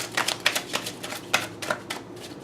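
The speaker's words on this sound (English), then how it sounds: "Let's do one more shuffle" A deck of tarot cards being shuffled up close, a run of soft rapid riffling bursts and flicks at uneven intervals, fairly quiet and without speech.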